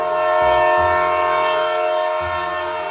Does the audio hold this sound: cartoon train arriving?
yes